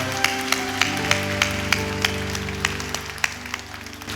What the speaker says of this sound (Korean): 전능하신 하나님께 영광의 박수 올려드리겠습니다.